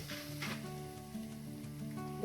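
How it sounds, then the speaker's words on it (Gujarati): Grains fry in oil for poha chivda with a steady, gentle sizzle, mostly quiet, a low hum underneath and a faint clink near the end. "આ રીતે બધા દાણાને તળી લઈશું"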